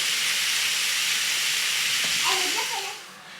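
Vegetables cooking in a pan with chorizo juices give off a loud, steady, hissing sizzle that eases slightly toward the end, where a brief voice comes in.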